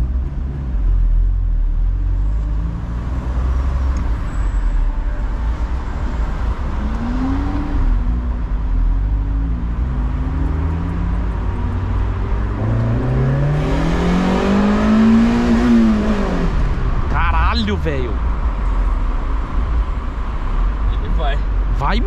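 A 1989 Mazda Miata MX5 drives and accelerates, its engine hum rising through two distinct rev climbs with quick gear changes between them. People talk in the cabin over the steady rumble.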